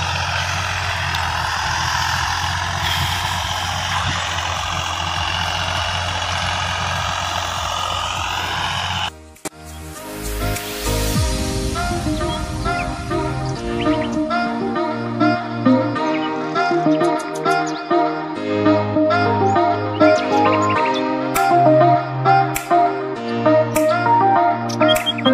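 A tractor pulling a cultivator plough through a field runs with a steady heavy engine drone, then the engine note shifts and labors with rising and falling tones and knocks, close by and loud, with no talking.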